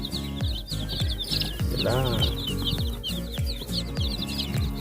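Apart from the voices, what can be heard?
baby chicks peeping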